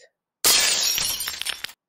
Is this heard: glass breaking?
yes